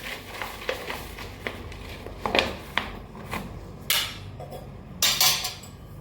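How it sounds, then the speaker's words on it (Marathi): A spoon scrapes and clinks against a pot while stirring a dry travel snack, irregular metallic taps and rattles at close range, with no talk. "चमच्याने जरासं हलवते"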